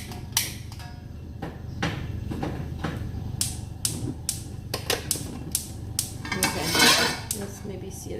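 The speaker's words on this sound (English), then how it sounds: "now what I'm gonna do is put this pan" Metal cookware clattering in a home kitchen: a pan being set down and handled, with a run of sharp clanks and taps, some cutlery clinks, and a louder scrape near the end.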